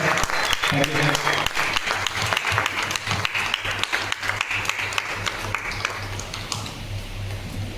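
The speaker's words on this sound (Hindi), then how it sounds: "ये एक सर के लिए एक जोरदार वाली ताली हो जाए।" Loud, sustained applause from a large audience at a Friday training session, a dense wash of clapping that fades slightly toward the end, with a voice briefly speaking over it near the start.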